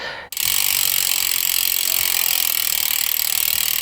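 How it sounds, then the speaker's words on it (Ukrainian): The stock hub of a carbon gravel bicycle wheel freewheels with a loud, fast, even ratchet buzz of rapid clicks, close up and continuous after a brief start. "Звертаю вашу увагу, що штатна втулка досить гучна."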